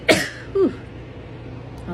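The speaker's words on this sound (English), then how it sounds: "I just sneezed out of nowhere" A single wet human sneeze bursts out sharply at the start, followed by a short vocal exclamation and a faint breath near the end, close and clear against a quiet indoor background.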